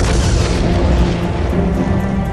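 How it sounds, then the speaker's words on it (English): The R-101 airship explodes after crashing into trees near a town, a loud, sustained roaring blast with heavy low rumble that stays dense and steady throughout, fading only slightly toward the end. "The explosion swept through the R-101, killing 48 men"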